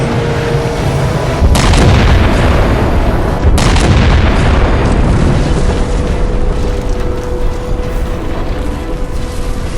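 A ship's cannon fires in a Halo game, two loud booming blasts over a dense, roaring mechanical rumble that continues without a break.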